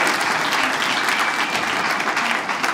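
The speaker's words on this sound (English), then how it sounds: "what makes that applause so sweet" A comedy audience at a mathematician-themed stand-up special bursts into dense, sustained applause, loud and even throughout with no voice over it.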